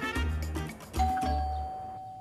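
A doorbell rings in a Turkish drama scene, sounding a clear two-tone ding-dong chime close by, followed by a lingering high ringing tone that fades as the sound dies away.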